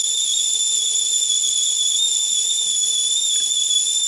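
Steady, piercing whistle held at one shrill pitch with a faint hiss beneath, loud and unbroken the whole time, no talking, like a kettle whistling after tea is made.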